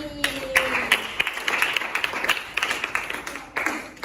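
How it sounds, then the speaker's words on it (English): A classroom audience claps in a short burst of scattered hand claps, near and fairly loud, with a voice speaking briefly at the start. "give applause"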